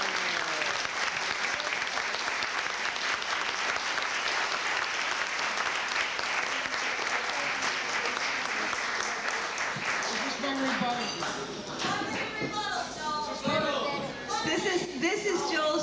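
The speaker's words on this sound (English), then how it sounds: "I'd like everybody to give Gina a round of applause" Loud, sustained applause from a sizable crowd fills the room, then thins out as chatter and voices take over toward the end.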